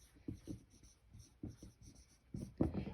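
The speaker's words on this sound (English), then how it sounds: "Percent, I'm going to write it down." A pen or pencil writes a single word by hand on paper, a run of short scratchy strokes with brief pauses between them, close and quiet, with no voices.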